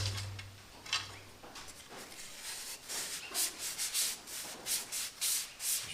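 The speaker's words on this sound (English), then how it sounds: "I'm sanding a little bit further down the shaft" Sandpaper is rubbed by hand up and down a spinning arrow shaft, a soft rhythmic scratching in repeated strokes, close and quiet with no talking.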